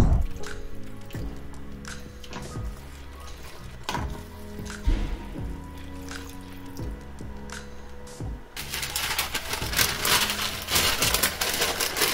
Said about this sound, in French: je rajoute mon reste de bouillon de cuisson de ma viande